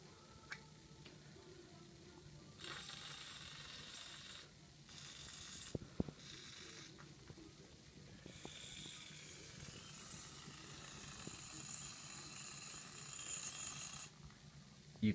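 Aerosol cleaner sprays onto a removed VAZ car mass air flow sensor in several faint hissing bursts, a short pair and then one long steady spray, over quiet background handling.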